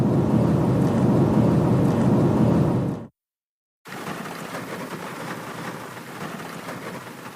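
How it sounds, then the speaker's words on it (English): Heavy rain pours down steadily at an open field, a dense, loud hiss that cuts out completely for under a second and then returns slightly softer and more crackling, with no voices. "I don't know if you can hear this, but it's raining like Jurassic Park."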